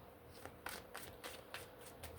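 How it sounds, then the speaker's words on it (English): Tarot cards being shuffled by hand, a soft, close riffling with several quick papery bursts at a steady rhythm and no voice. "Let's shuffle this one."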